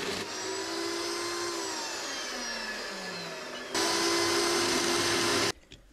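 A loud, sustained high-pitched bandsaw whine runs continuously, dipping slightly in pitch mid-cut, then surges briefly before cutting off abruptly.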